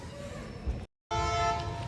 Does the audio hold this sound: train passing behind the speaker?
yes